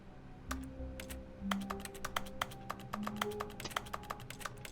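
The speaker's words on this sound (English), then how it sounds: "I'm interacting on the phone and I'm typing on the keyboard." Keyboard typing in the video game The Stanley Parable, a quick run of light clicking keystrokes with steady rhythm over a low in-game hum.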